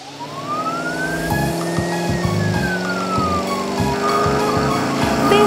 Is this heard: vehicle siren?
yes